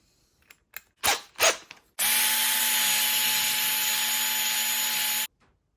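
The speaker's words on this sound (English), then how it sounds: "Last job is to give them a clean." Tama drum lugs are cleaned with a power tool. A few light clicks and knocks come first, then a loud, steady whirring runs for about three seconds and stops abruptly.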